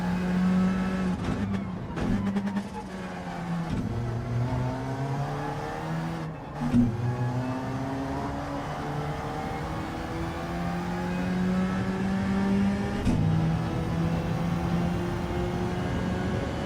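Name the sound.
race car engine in a racing video game time trial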